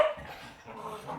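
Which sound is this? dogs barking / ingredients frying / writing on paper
dogs barking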